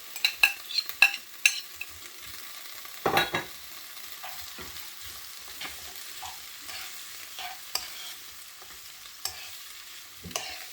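Carrots and mixed vegetables are stir-fried in a pan for vegetable rice. A soft, continuous sizzle runs under clattering spoon scrapes and knocks, which are busiest at the start and then come in scattered strokes.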